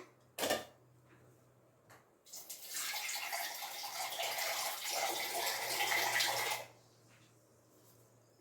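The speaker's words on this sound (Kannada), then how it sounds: "ಇನ್ನೊಂದು ಸ್ವಲ್ಪ ನೀರು ಹಾಕ್ತೀನಿ ನಾನು" Water pours from a vessel into a pot of mixed vegetable kurma in a home kitchen, a steady splashing stream lasting about four seconds after a brief knock, then quiet.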